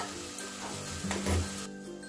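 Dal is poured into hot fried masala in a pan and sets off a sudden sizzling rush, with a thick splash as it lands. The hiss then settles into a steady simmer, close up and with no voices.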